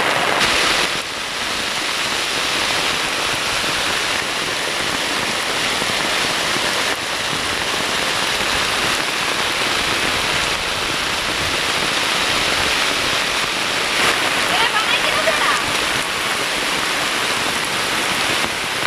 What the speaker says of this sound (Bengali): ওটার পানি গড়ায় গড়ায় আসতেছে, ওই পানি আর কি আমরা রাখতেছি।